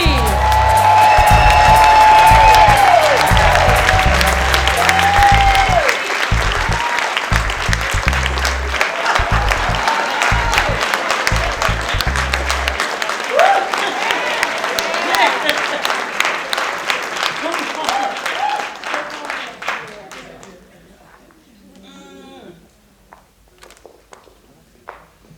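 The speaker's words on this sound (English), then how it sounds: "a big round of applause for Rochelle Riley." A storytelling show crowd claps loudly and steadily with scattered cheers and whoops, the applause holding strong before tapering off over many seconds into a quieter room.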